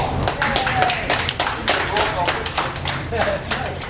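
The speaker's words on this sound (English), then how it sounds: "Round of applause." An audience claps steadily for a U.S. Navy corpsman aboard the USS Midway, a dense, continuous round of applause mixed with some voices.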